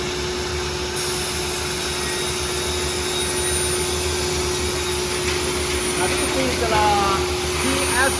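A TS-J39L PQJ automatic frame moulding cutting machine running with its saw blade, a loud continuous whine and roar with a steady high tone, holding evenly throughout with slight shifts near the end.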